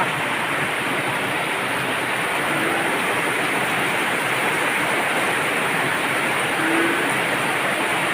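Heavy rain pours down steadily during a flooding downpour at a house, a dense, even hiss that holds at the same level throughout with no pauses.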